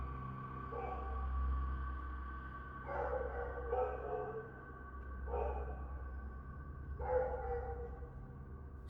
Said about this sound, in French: Les chiens aboient à son passage